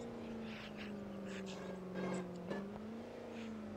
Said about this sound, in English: You can literally hear the whine in the hood view